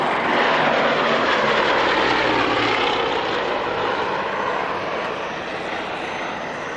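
A rare aircraft at the North Weald airshow roars past loud and close, its engine a dense continuous drone that slowly eases off toward the end.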